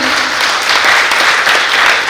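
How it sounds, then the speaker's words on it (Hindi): Loud, dense applause from an audience at a stage performance in Hindi, with continuous clapping close by for the whole short stretch. "तालियां बजती हैं।"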